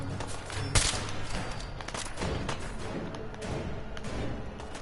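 Gunfire in Fallout 4 sounds as one sharp, loud shot, followed by a rapid scatter of fainter pops and thuds over steady game background noise, with no talking.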